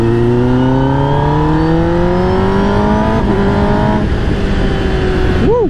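A Kawasaki ZX10R motorcycle engine revs loud and close, its pitch climbing through several rising sweeps before dropping off near the end.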